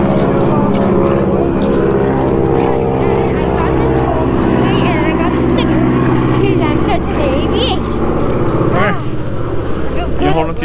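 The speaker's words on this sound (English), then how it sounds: "Airplane." An airplane engine drones loudly and steadily at the Palm Springs Air Museum, with people talking over it throughout.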